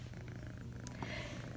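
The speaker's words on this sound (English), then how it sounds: "Listen to him purr. He's like a little motorboat." A house cat purrs softly right next to the listener, a faint, steady low rumble like a little motor, with no talking over it.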